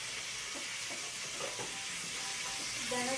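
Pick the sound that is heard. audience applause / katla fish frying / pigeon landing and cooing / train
katla fish frying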